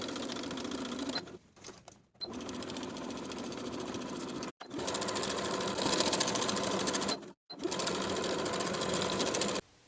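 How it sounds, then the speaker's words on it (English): A sewing machine stitches a waistband onto shorts with a 1/2 inch seam allowance, a steady, fast mechanical whir running in long bursts with brief pauses between seams, close and alone. "Sew the waistband to the top of the pant all the way around with a 1/2 inch seam allowance."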